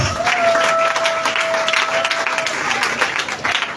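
A church congregation applauds and cheers, a dense wash of clapping and crowd voices with one sustained high call rising above it, continuing for several seconds.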